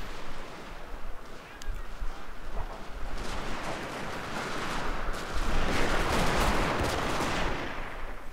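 Massed musket volleys in the video game Shogun 2, dense crackling gunfire rolling continuously with sharp individual shots, swelling louder toward the end of a busy battlefield din.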